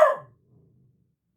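A beagle lets out a single loud, close bay that dies away quickly into near silence.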